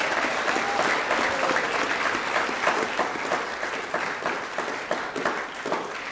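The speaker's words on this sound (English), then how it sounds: "Round of applause for Simon." Audience applause at a high school co-curricular prize giving, a steady dense clapping from a large crowd that holds loud and even throughout with no break.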